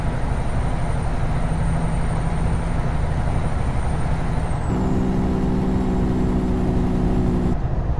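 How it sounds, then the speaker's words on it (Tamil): A train rolls along the right-hand side in American Truck Simulator, a steady mechanical rumble blended with the loud, constant drone of the truck's engine and faint tonal hums from the rails. "ரைட் ஹேண்ட் சைடில் ட்ரெயின் போயிட்டுருக்கு"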